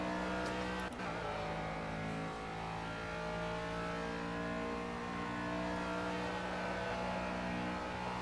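Ginetta G40 race car engine in Project Cars at Snetterton, a loud, steady close-up drone that holds its pitch and rises slightly, with a short transient near the start and no talk.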